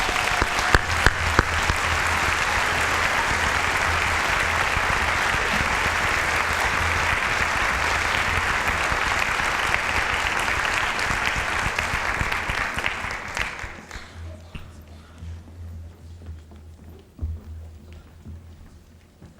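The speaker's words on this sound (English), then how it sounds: "Please give them a round of applause." An audience at a 2017 PRHS senior awards ceremony gives award recipients a long, even round of applause that stops abruptly after about thirteen seconds, leaving a low room hum with scattered faint sounds.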